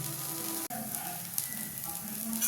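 A mung bean dosa frying in oil on a pan, giving a steady, soft sizzle throughout with a faint hum of tones in the background and no talk.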